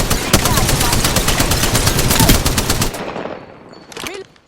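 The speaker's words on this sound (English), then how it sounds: "Listen up, I'm getting shot at." Rapid automatic gunfire in the video game Apex Legends, a dense burst of close, loud shots lasting about three seconds before cutting off, followed by a couple of faint trailing sounds.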